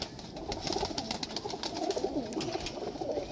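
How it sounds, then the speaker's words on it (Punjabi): Pigeons cooing at a breeder's loft in Jhelum, a steady low murmur of soft coos from several birds close by, with no talk. "ਇਹ ਦੇਖੋ ਮਾਸ਼ਾਅੱਲਾ ਕਬੂਤਰ ਦੇਖੋ ਮਾਸ਼ਾਅੱਲਾ"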